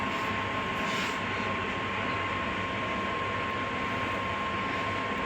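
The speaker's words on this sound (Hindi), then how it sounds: "ये अपनी ट्रेन है, देख रहे हो, वंदे भारत एक्सप्रेस।" Vande Bharat Express train at a railway station, a steady loud broadband rumble and hiss with a constant tone running throughout, no clear talk.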